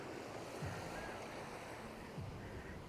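Soft wash of ocean waves in a small sandy beach bay on Koh Lanta, Thailand, a faint, steady surf rumble with gentle breaking swells, no voices.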